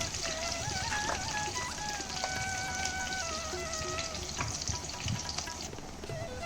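Fennel seeds and curry leaves frying in hot oil, a close, dense crackling sizzle that holds steady throughout, with a faint high whine running beneath it.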